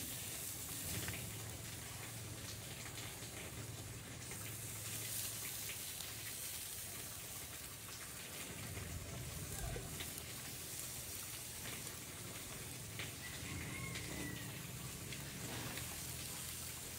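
Squid stuffed with tomato sizzles on an outdoor grill, giving a steady, close crackling hiss like light rain that runs unbroken with no voices.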